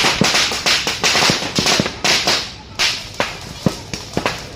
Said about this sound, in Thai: สงครามประทัดเริ่มมาแล้ว